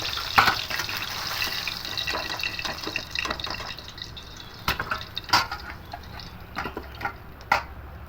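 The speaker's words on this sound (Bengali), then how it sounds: "মাছগুলোকে ভালো করে ভেজে নিচ্ছি" Rohu fish pieces fry in hot oil in a home kitchen, giving a constant crackling hiss with sharp spitting pops and sputters scattered through it.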